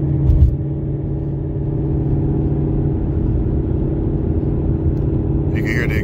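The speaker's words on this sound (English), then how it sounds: "As y'all heard, it already downshifted." A car with a Lund performance tune downshifts in sport mode. A deep, continuous engine and exhaust rumble runs close and loud throughout, with a slight change in tone partway through and a short burst of voice at the end.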